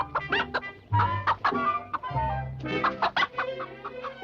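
Bad-tempered rooster in a Disney cartoon, clucking and squawking in a close, lively run of sharp bursts with short pauses, alone without speech.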